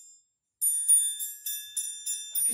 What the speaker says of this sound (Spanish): ¡El triángulo!